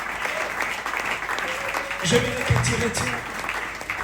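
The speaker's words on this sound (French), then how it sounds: "Est-ce qu'on peut acclamer plus fort?" A church congregation at a Sunday service applauding and cheering, a steady wash of clapping and voices under a preacher speaking loudly over it.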